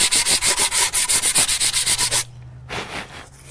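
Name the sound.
sanding wood by hand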